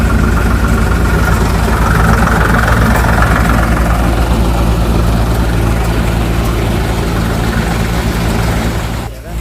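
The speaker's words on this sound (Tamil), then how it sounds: "இந்த மிஷின் வந்து எத்தனை ஆர்பிஎம்ல ஓடுதுன்னு பார்க்கலாம்" A home peanut peeling machine runs with a steady, loud mechanical hum and rattle throughout, continuous and close, cutting off briefly at the very end.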